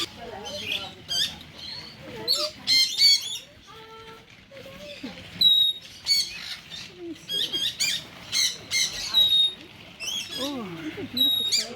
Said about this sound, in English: these birds are just out near the reception area